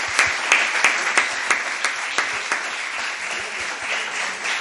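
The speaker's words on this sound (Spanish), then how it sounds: "Protocolariamente hay que aplaudir al conferenciante cuando acaba su conferencia." Audience applauding a lecturer after a conference on Mario Camus, steady close clapping with distinct sharp claps at the start, holding at an even level throughout.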